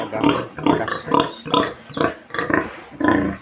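A sow, a mother pig, grunts in her pen in a steady series of about seven loud, close grunts, each short and rough, repeating at a regular half-second to one-second rhythm with no talk over them.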